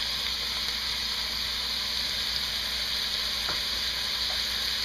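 Pork frying with parsley in a pan gives a continuous close, bright sizzle and hiss, with a brief clink of a utensil as it is stirred, and no talking.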